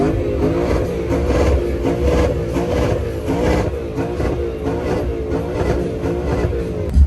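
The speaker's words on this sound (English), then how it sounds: "Rev it till the engine gives out." Car engine revving hard at a Hoonigan burnout show during SEMA 2022, a loud sustained mid-range roar with rising and falling revs throughout, no talk over it.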